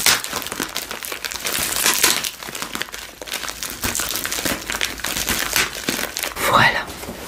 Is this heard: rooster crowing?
no